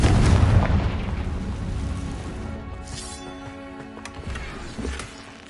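A Confringo fire spell blast in Hogwarts Legacy, a single loud booming burst at the start that rolls off into a long fading rumble with faint crackles.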